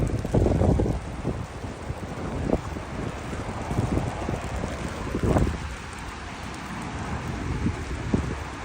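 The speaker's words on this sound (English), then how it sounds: "this is typical St. Petersburg weather. Cold, windy, and rainy." Steady wind gusts roaring across the microphone outdoors in cold St. Petersburg weather, with low rumbling buffeting and a faint hiss of rain, continuous throughout with no talk.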